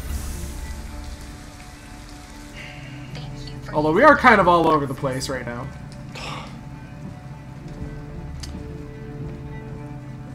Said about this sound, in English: Thank goodness for the rain.